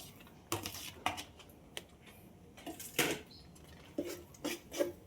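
A spoon stirs grated coconut into jaggery syrup in a metal pan for coconut obbattu, making a series of irregular scraping clanks against the pan, close and moderately loud, with no talking.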